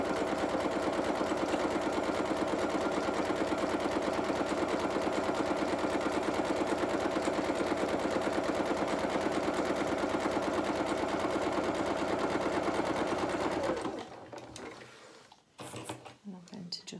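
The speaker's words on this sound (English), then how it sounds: "Just going to chain stitch this by adding it in the second one in." A sewing machine chain stitches dressing gown pieces in one long, steady, close run that stops near the end, followed by light handling noises.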